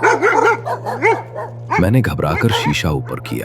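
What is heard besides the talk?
dogs barking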